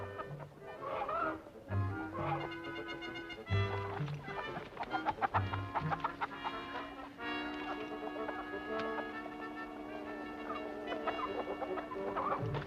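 Chickens cluck and squawk around a barn in a 1960s wartime TV drama scene, the fowl noises repeating under music and dialogue.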